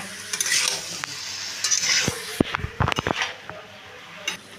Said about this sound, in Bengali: গ্যাসের আঁচটাকে হাইতে রেখে আমি এটাকে ভালো করে কষিয়ে নেব